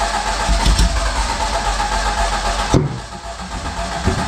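A 1982 Fiat X1/9 engine cranks and tries to start, rough and loud up close, with a sharp pop near the end before the sound drops away.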